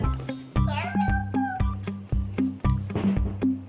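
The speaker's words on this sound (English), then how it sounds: "cat" A cat meows in a string of loud, close, repeated calls with a steady rhythm, each one short and sharp, while other sounds blur into the background.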